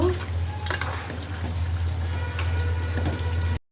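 Dal being stirred in a pot on the stove, giving a steady wet scraping and swishing under a low constant hum, then stopping abruptly.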